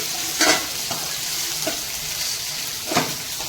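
Crab frying in hot oil with spices, a steady broadband sizzle punctuated by several sharp scraping stir strokes, close and fairly loud with no talk.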